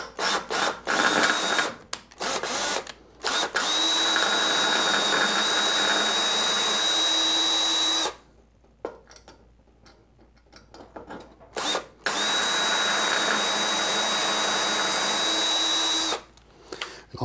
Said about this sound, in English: So now I'm going to switch over to a little bit bigger drill bit.